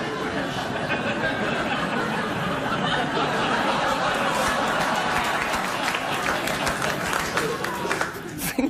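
Studio audience applause at a late-night talk show, a dense, steady wash of clapping mixed with scattered laughter and chatter that holds for the whole stretch and begins to thin near the end.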